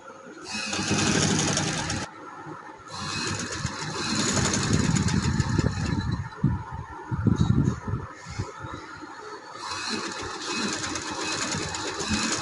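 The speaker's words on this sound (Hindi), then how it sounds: "अब मैं ये डबल सिलाई लगा रही हूँ ताकि नीट आ जाए।" A sewing machine runs a double line of stitching along a trouser, with a continuous whirring motor hum in several close bursts and brief pauses between them.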